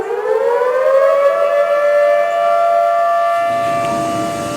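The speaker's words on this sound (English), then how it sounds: "sirens warned people downstream as the shutters of the Cheradoni Dam of the Idiki Reservoir were opened today" Warning sirens sound downstream of the Cheradoni Dam on the Idiki Reservoir as its shutters open, a loud wailing tone that rises and then holds steady before softening near the end.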